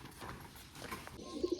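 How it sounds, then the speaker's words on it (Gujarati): Pigeons on a rooftop give soft, faint coos, with a few low repeated notes toward the end over quiet outdoor background. "અને કબૂતર આપણા અહીંયા જો મોજ કરે છે."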